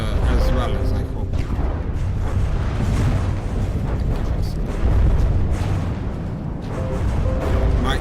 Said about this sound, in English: the bigger guns don't sound all that well compared to like the small guns